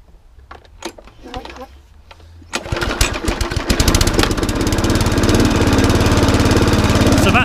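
A lawnmower engine with its engine brake removed sputters into life and settles into a loud, steady running chug close by, after a few seconds of quieter handling noises.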